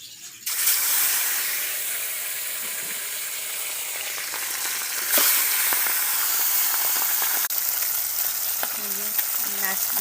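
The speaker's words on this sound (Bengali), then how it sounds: "এবার এই দুটো মাছ তেলে ছাড়বো।" Two fish are dropped into hot oil, setting off a sudden, loud, sustained sizzle with crackling spatter that keeps hissing steadily, close up, with a few faint clinks near the end.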